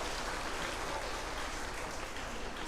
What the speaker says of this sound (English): Let's give a huge round of applause to all the contestants of the panel discussion